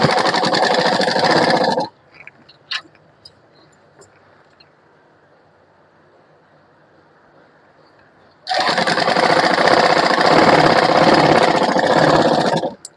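A sewing machine stitches a child's kurti in two loud, steady bursts, one at the start and one near the end, with a quiet pause between them that holds a few small clicks.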